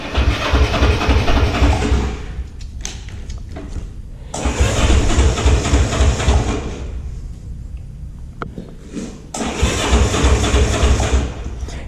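A small engine with its choke set coughs into life and runs in loud, rough bursts, cutting out briefly a few times and restarting across the span.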